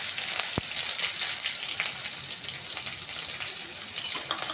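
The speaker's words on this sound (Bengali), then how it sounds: "তেলের মধ্যে পেঁয়াজ দিয়ে দিলাম। পেঁয়াজটা হালকা ভেজে নেব।" Chopped onion sizzling in hot oil in a home kitchen, a steady, bright frying hiss throughout with one brief sharp click near the start, no talk.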